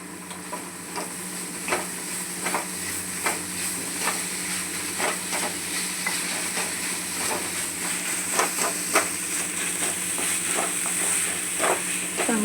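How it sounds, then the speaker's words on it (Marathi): Paneer bhurji with coriander being stirred in a hot pan: a steady hissing sizzle with rhythmic spoon scrapes and taps against the metal, close and moderately loud throughout. "पनीर यात चांगलं एक मिक्स करून हलवून घेऊ"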